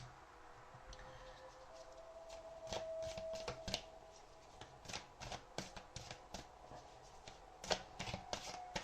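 Crisp, rapid riffling of a tarot deck in several short bursts, with a faint steady tone beneath and quiet pauses between shuffles.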